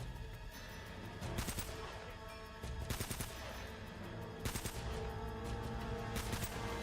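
MP40 submachine gun fire in Uncharted: Drake's Fortune, heard as repeated short bursts of rapid shots over a dense background of game action and music, loud and close.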